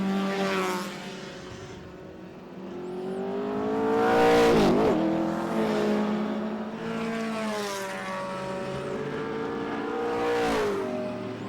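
Group A touring race cars, including an Alfa Romeo, scream past at speed on the Winton circuit in Australia, engines rising and falling through gear changes as several cars sweep by in turn, loud and unaccompanied by speech.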